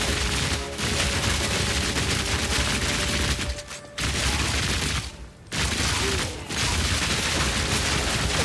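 A fully automatic crossbow in Path of Exile 2 fires in a dense, continuous rattle of bolts, loud and steady, broken by a few brief pauses, with no voices.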